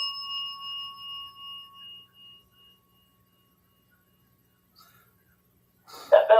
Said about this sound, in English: That bell is going off.